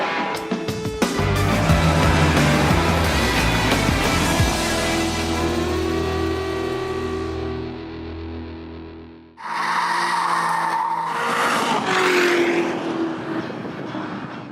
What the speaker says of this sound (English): this is the 755 horsepower Corvette ZR1